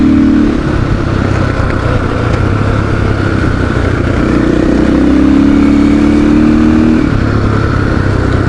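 A KTM 500 EXC-F dirt bike engine runs loud and close in a continuous roar, with the revs climbing and holding higher partway through before easing back down.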